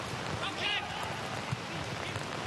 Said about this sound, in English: you can really hear every drop of the rain coming down